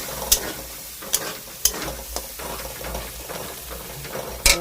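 Prawns are stirred and sautéed in a pan with a little water, a close sizzle and bubbling broken by sharp metal spatula scrapes and taps, with no one talking.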